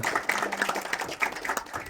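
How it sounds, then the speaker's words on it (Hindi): A crowd at a launch event for the film trailer of Vijeyta claps loudly and briskly for two seconds, with dense overlapping hand claps close to the microphone. "क्या बात, जोरदार ताली हो रही"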